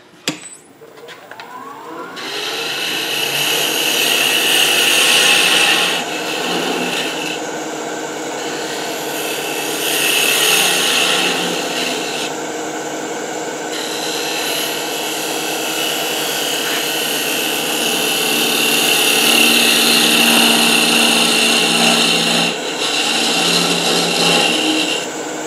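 A woodturning gouge cuts a funnel into the center of a spinning wooden saltshaker on a lathe, a loud continuous scraping hiss over the motor hum that swells and eases with each pass and has no talking.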